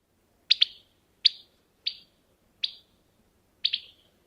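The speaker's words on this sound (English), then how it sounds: "And then here's a wren alarm call." Carolina wren alarm call: five sharp, harsh chattering bursts at irregular intervals, some doubled, fairly close and clear over quiet background.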